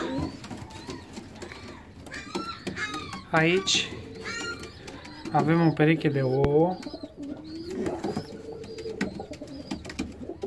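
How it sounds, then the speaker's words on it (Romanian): Fancy pigeons in an aviary give deep, rolling coos in several clear bursts, close and prominent, while someone speaks between and over the calls. "o să intrăm în volieră să vedem ce mai fac porumbeii noștri"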